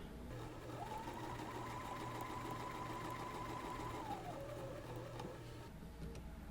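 A sewing machine stitches quilt pieces for an Alaska block-of-the-month quilt with a scant quarter-inch seam, giving a close, steady whirring drone that holds evenly for several seconds with no talking.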